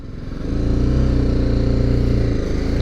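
A BMW G310GS BS6 adventure motorcycle pulls away and rides, its single-cylinder engine rising quickly from a low rumble to a loud, steady, throbbing drone close by, with no talk over it.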